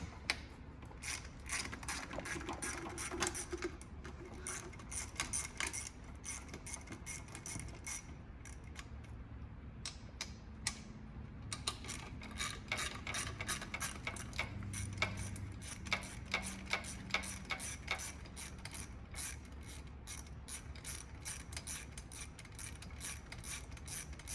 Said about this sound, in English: Now we're going to go to the other side and remove the other two valve cover bolts.